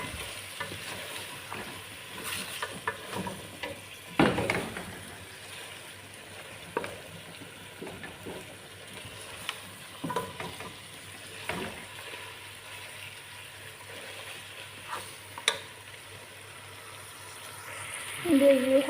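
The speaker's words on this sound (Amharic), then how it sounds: "እንደዚህ አድርጌ ሽንኩርት ጋር አቀላቅለዋለሁ።" Meat stirred with onions in a hot pan gives a soft, steady sizzle and frying hiss, broken by scattered scraping stirs and clatters of the utensil, with louder crackling near the end.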